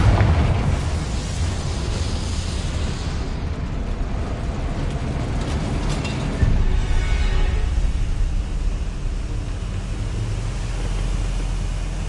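Confringo blasting spell going off in Hogwarts Legacy: a loud, sustained roaring rumble with crackling debris, a fresh burst partway through, and no one speaking.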